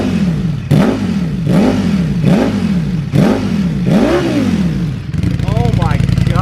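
A 2020 Ducati Streetfighter with a full Akrapovic exhaust, baffles fitted, revs loudly and close in six rising-and-falling blips, then settles into a steady, throbbing idle.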